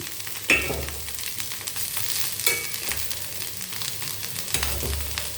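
Potatoes for pepper fry toss and sizzle in a hot kadai, with a steady frying hiss broken by a few louder scraping stirs of the pan.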